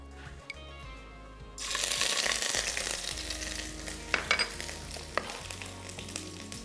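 Garlic ginger paste drops into hot oil for a Balti gosht and starts sizzling loudly, then keeps frying steadily with a few clinks and stirs. The pan is close, with no talking.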